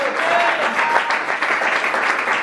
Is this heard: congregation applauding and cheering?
yes